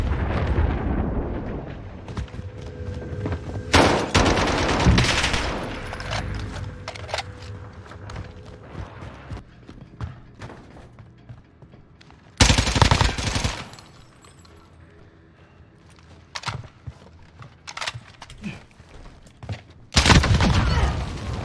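Bursts of automatic gunfire and booming shots from the video game Warzone, loud clusters of rapid fire separated by quieter stretches of game ambience, with a brief voice line heard.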